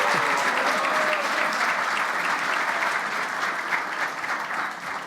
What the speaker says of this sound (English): I would have been fine with no heckling, so the applause is actually nice.